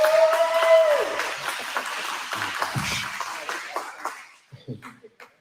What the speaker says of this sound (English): So if you want to give yourself a hand.